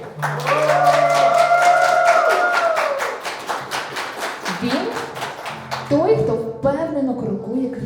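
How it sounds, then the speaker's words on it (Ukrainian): Wedding ceremony guests clap together in a steady, dense round of applause that fills the room, with a voice and music-like tones running over it before the clapping thins toward the end. "Ваші оплески!"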